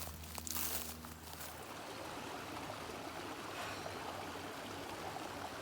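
A creek flows beside a hiking trail, a steady broadband rush of water throughout, with a brief crinkling rustle near the start and no voices.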